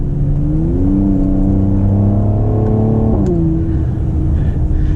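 A car engine revs hard as it accelerates, its rising pitch climbing steadily and dropping sharply at a gear change, loud and close, with no talking over it.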